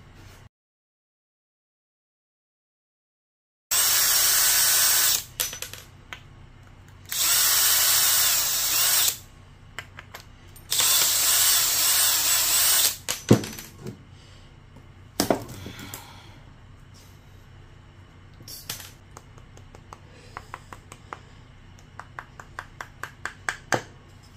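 A power drill whirs loudly up close in three long bursts while working on a cast iron part, then gives way to scattered knocks and clattering.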